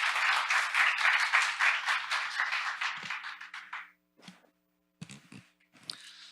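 Audience applause at a fintech conference, a dense burst of many hands clapping that thins out and fades after about four seconds, leaving a few scattered claps and faint room noise.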